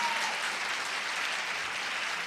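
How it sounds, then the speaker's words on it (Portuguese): A church audience gives a big round of applause for three female pastors, dense and steady clapping filling the room for the whole moment with no voices over it. "E vocês vão dar a elas uma grande salva de palmas."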